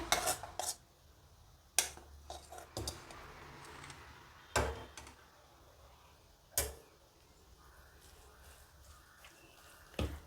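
A spoon clinks and scrapes against a metal bowl while stirring tempering into idli batter, in several sharp, separate knocks spread over the stretch, with quiet mixing between them and no voices.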